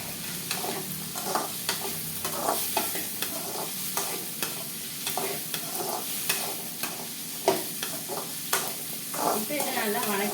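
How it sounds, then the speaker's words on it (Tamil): Cut coconut is stirred and fried in a pan for an eggplant kuzhambu, with a steady sizzle and repeated scraping strokes of a spoon at a regular rhythm, close up. "தேங்காவையும் வணக்கலாம்."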